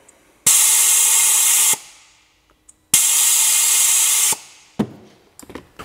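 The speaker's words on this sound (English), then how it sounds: "now the air springs are venting" Air springs on a vehicle's air suspension vent in two loud, steady hissing bursts of about a second and a half each, separated by a short pause and followed by a few faint clicks.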